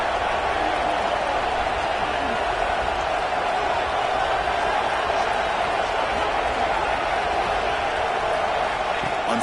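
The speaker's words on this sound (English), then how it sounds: "This crowd is trying to inspire this defense to make a big red zone stop." A stadium crowd at a Golden Bears college football game roars during a red-zone defensive stand, a dense, unbroken wash of cheering noise that stays loud and steady throughout.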